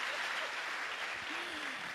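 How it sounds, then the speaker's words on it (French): Steady applause from a crowd, dense and even throughout, with a faint voice rising briefly underneath. "applaudissez pour l'orchestre"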